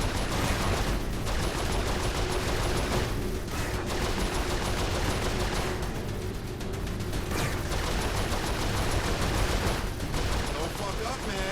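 Saints Row 4 turret gunfire, a continuous rapid mechanical rattle of automatic shots blanketing the whole stretch with brief dips, loud and dense, with voices talking over it.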